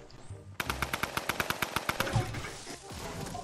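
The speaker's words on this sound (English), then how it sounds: "Did the guy have a shotgun?" A rapid, evenly spaced burst of about fourteen gunshots rings out in the video game Fortnite, loud and close, trailing off into quieter game noise.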